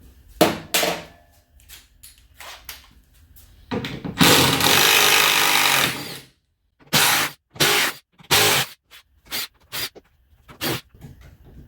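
A power tool removes T30 Torx screws during an electric car conversion of a BMW E46, with repeated short, loud whirring bursts separated by pauses and one longer run in the middle.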